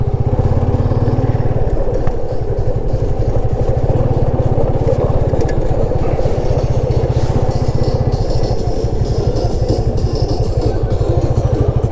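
A motorcycle engine runs loud and close near a riverside beach picnic spot, a steady throbbing chug with rhythmic clatter that holds constant throughout, no talking.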